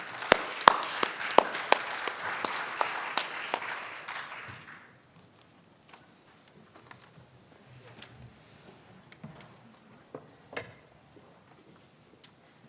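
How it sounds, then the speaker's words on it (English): An audience at a university research symposium claps after a panel discussion, a moderate burst of applause that fades out after about five seconds, leaving scattered faint taps in a quiet room. "Let's give them a round of applause."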